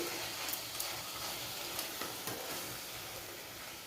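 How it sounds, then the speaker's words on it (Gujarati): Vegetables with turmeric, salt and garam masala stirred through hot oil for a khichdi, giving a steady broadband sizzle with a few soft scraping stirs, close and continuous with no talking. "હવે આપણે બધું સારી રીતે મિક્સ કરી દઈશું"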